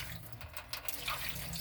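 Water gushes steadily from a water heater valve opened past fully open, a constant loud splashing rush that fills the whole moment with no voices.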